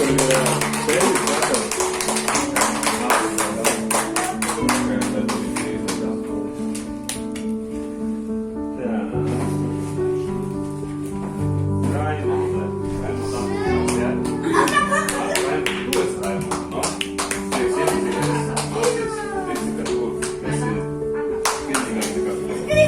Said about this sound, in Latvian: Aplausi Arturam!